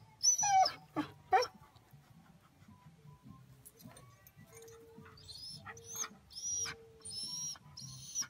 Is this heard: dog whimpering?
yes